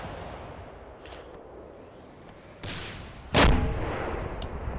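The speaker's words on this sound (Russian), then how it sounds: "Уже стреляют, по-моему." A few scattered gunshots in an ArmA 2 ACE team-versus-team match crack out one by one, some sharp and near and others more distant, over a low background hush.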